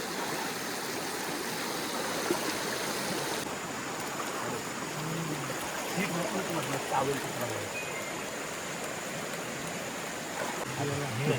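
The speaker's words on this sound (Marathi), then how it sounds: "हा पाण्याचा ओहळ आहे" A small stream flows steadily nearby, a constant rushing wash of water with faint movement and brief sounds of people in the background.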